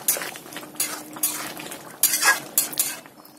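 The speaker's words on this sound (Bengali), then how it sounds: "আর এর মধ্যে দিয়ে দিলাম গরম মশলা আর ধনেপাতা কুচি, দিয়ে ভালো করে নাড়াচাড়া করে নামিয়ে নেব।" Chana paneer with garam masala and chopped coriander stirred in a pan, a metal spoon scraping and clinking against the pan in several uneven strokes, close and fairly quiet, with no talking.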